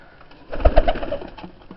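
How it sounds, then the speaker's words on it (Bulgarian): A grey Chinese owl pigeon, a show bird, gives a short run of soft cooing notes close by, a few quick rolling coos in the middle of an otherwise quiet moment. "сив хован гълъб"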